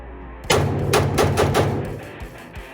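An AR-15 rifle is fired without a suppressor, giving four loud, sharp unsuppressed shots in quick succession, each ringing out with a booming echo that decays afterward.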